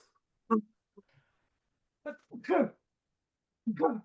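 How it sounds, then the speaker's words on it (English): A single sharp sneeze bursts out, followed by a couple of short voiced exclamations and breathy sounds, close and fairly loud. "Fucking sneezing, dude."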